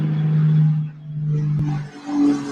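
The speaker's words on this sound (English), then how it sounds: "That was the plane that I was talking about." A low, rumbling engine drone of a passing airplane swells and fades over a couple of seconds, with no one talking.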